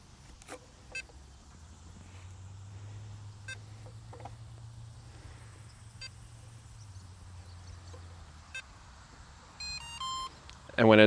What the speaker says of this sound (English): when it's done, we get that confirmation beep, which is good